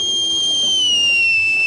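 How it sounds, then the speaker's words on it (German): A loud, shrill whistle in a cartoon adventure, blown as a deterrent, holds one steady, slightly falling tone with bright overtones for nearly two seconds, alone and close. "werde ich zur Abschreckung nochmal pfeifen"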